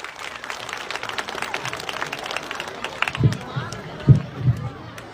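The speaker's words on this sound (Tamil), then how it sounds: "நல்ல ஒரு பலத்தை கைத்தட்டு தரலாமா" Applause from the audience at a school annual day celebration rises as scattered claps beneath continuing amplified speech, with a few louder bursts of clapping toward the end.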